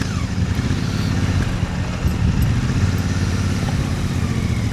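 Steady, loud engine rumble from motorcycles idling close by, a continuous low throb with no pauses.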